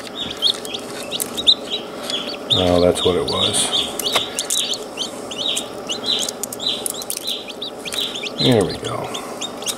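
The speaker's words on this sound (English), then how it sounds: "the little chicken there started hollering" A newly hatching chick calls from its egg with rapid, shrill repeated peeps throughout, near and fairly loud, while a person speaks briefly over it.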